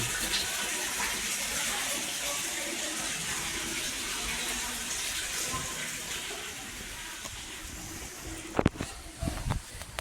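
Water runs from a tap with a steady, fairly loud gushing hiss that continues throughout, joined by a few sharp knocks near the end, and no talking.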